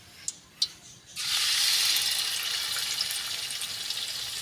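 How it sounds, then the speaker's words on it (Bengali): An egg hits a hot pan for Bangladeshi-style frying, bursting into a loud, steady sizzle after a couple of small clicks, the hiss holding evenly to the end. "দেখো বন্ধুরা কত সুন্দর হচ্ছে ডিমটা ভাজি না?"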